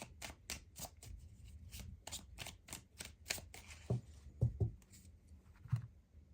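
Forest Fae tarot cards being shuffled: a quiet, rapid series of crisp riffling flicks and soft taps heard close up, with a few duller thumps toward the end.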